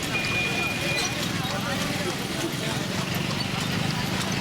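Steady clip-clop of a horse pulling a tonga on a road in Lucknow amid busy traffic noise, with voices talking over it.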